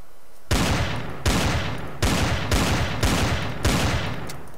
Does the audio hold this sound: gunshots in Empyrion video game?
yes